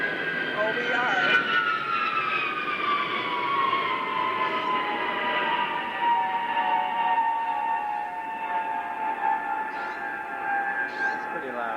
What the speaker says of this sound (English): A jet plane flying overhead here.